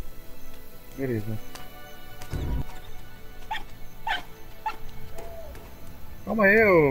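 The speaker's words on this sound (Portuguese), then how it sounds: "Calma aí, ô cachorrinho," A fox yaps in the video game RiME, a few short high yips and whines scattered over quiet game ambience, with someone talking over part of it.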